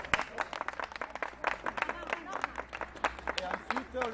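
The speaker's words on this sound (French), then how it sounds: "Donc on va s'applaudir avant de passer pour les encourager." A small audience claps in scattered, uneven bursts at moderate distance, with voices chatting and calling out over the clapping.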